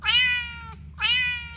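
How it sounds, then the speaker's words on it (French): A cat gives two clear, close meows, each a rising-then-falling cry lasting about three quarters of a second, separated by a brief pause, over a faint low background hum. "Chat."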